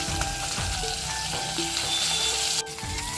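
Foli fish fries in hot oil, a steady loud sizzle and crackle with faint stirring clinks, no voices.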